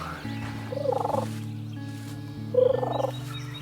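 A wild turkey gobbles twice during a spring hunt, two rattling bursts about a second and a half apart, heard at moderate distance over a steady low droning background.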